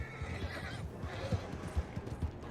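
Horse neighing and whinnying in Red Dead Online, with hoof clip-clop and low thumps, fairly close and steady across the moment, no talk.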